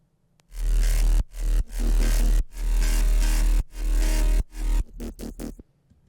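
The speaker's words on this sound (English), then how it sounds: "All those basses together sound like this." Layered dubstep synth basses with LFO wobble and distortion, compression and EQ, heavy, loud bursts separated by sharp gaps, ending in quick stuttering hits and silence.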